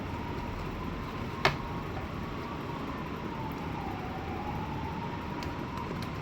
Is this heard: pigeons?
no